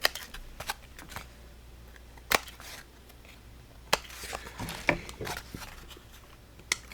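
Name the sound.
trimming a handmade card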